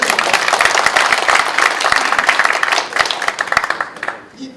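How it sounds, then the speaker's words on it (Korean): A lecture-hall audience at a Korean special talk on Eastern philosophy breaks into applause, a loud, busy clatter of many hands that holds steady for several seconds, then thins and fades out at the end. "박수가 필요해요"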